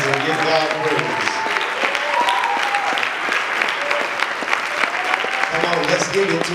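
A church congregation claps continuously and energetically during a worship service, the dense clapping sustained throughout with voices and music mixed underneath.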